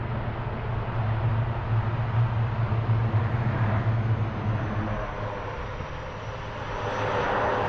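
A landing airplane roars steadily with engines on full reverse thrust, a loud sustained low drone with broadband rush that swells again toward the end.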